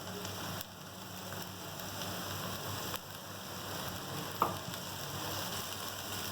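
Green onion sautés in a pan with a steady, moderate, rain-like hiss. A few soft clicks and one sharper tap sound against the pan.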